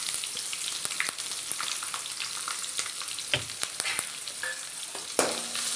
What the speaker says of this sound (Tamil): இனி வெங்காயம், பச்சை மிளகாய் போட்டுக்கலாம்.